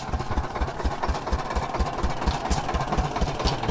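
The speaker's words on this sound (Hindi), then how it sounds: "ये इंजन है और वो गियर" A tractor engine runs steadily near a well, a close, loud diesel chugging with a fast even low thump and mechanical rattle throughout.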